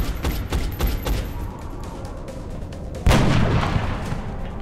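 A sniper shot in the video game XCOM: Enemy Unknown lands as a single heavy blast that bursts in loud and close, following a series of rapid thudding shots or footsteps and trailing off in a rumbling echo.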